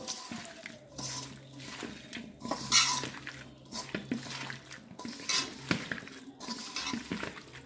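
Fish being hand-mixed with tomato, turmeric, cumin and coriander powder, soft wet squelching and stirring close up, with occasional clinks of dishes and some water noise in the background.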